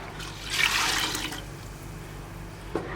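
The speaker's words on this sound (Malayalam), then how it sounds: "അപ്പോൾ നമുക്കിതിലോട്ട് തേങ്ങാപ്പാൽ ഒഴിച്ചു കൊടുക്കാം" A brief gush of coconut milk pours and splashes into a pot for payasam, then fades to quiet with a small knock near the end.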